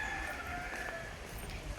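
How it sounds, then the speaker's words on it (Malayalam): Chickens at Pazhayannur temple during a small village festival give faint, scattered clucks and calls, set back in a steady outdoor hum of background noise. "ഇവിടെ കോഴികൾ, കുറേ കോഴികളുണ്ട് കേട്ടോ അവിടെ"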